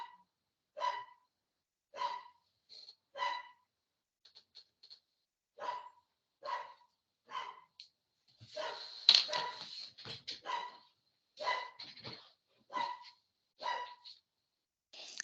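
A dog barks repeatedly at a distance with faint, evenly spaced barks, a run of yips and whimpers in the middle, then more barks, with no talk over it.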